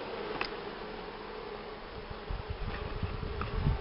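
A mass of honey bees packed behind the insert board and insulation of a hive gives off a low, steady hum. A few soft knocks and rustles grow louder toward the end.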